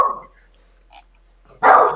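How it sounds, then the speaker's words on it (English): A dog barks nearby, one short bark at the start and a louder, sharper bark near the end, separated by near silence. "dog's going to bark now"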